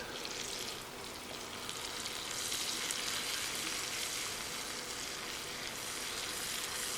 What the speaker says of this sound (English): As your onions are cooking, you can just kind of scrape the bottom, get all those little bits up